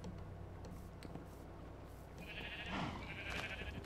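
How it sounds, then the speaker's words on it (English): Sheep bleat in the video game Minecraft on a survival multiplayer farm, one short bleat standing out near the end over a busy, low background of game sound. "breed more sheep, more sheep."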